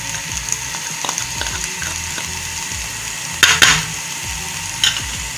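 Brinjal frying in a pan with tomatoes and green chillies for baingan bharta, a steady soft sizzle under light stirring scrapes, with a couple of brief louder utensil clatters near the end.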